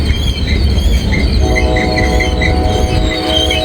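A train rumbles across an old river viaduct bridge, loud and close, with continuous heavy rolling, a sustained tonal squeal from the wheels, and rhythmic clicking over the rails.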